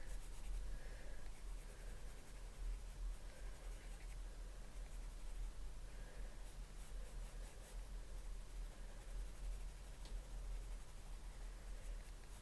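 A Copic marker rubbing across paper while colouring shadow areas, a soft continuous scratchy hiss that stays steady and close without pauses.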